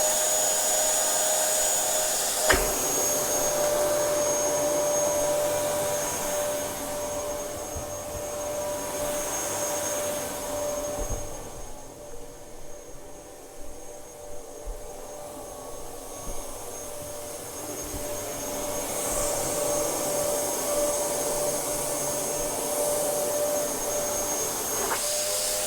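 A Dyson DC07 vacuum cleaner runs continuously through a whole-house cleaning, a loud steady whine with a clunk near the start, a dip and fluctuation midway as it moves, then a return to full roar.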